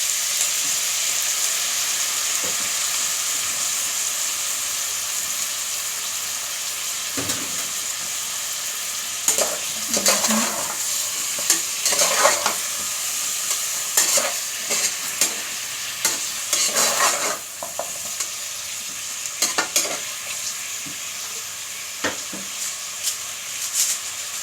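Chicken wings cooking in a pan with fish sauce give off a continuous hissing sizzle, broken by bursts of stirring and scraping in the middle and later part, close-up, with no talking.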